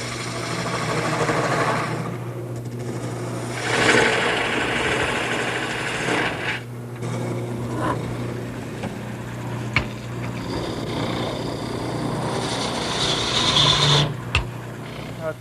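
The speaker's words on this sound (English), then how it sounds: "I'm going to go to my largest gouge and start roughing it out" A wood lathe spins as a large gouge roughs out a long bed post, a continuous scraping, rasping cut over a low motor hum, swelling and easing as the tool moves along the wood.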